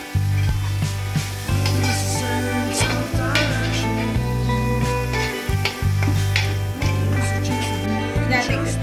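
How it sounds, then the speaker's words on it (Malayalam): Chicken sizzles in a frying pan with tomato sauce while a utensil stirs and scrapes in irregular strokes, with brief pauses and clatter between. "ചിക്കൻ ആടി കൊടുക്കാം"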